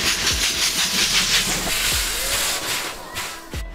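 Thomas the Tank Engine, a steam locomotive, gives off a steady loud hiss of steam, pulsing with chuffs throughout, close and continuous.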